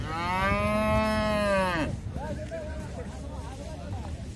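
At a livestock market a cow lets out one long, loud moo that ends with a falling tail, followed by fainter lowing and general market bustle, with people talking in the background.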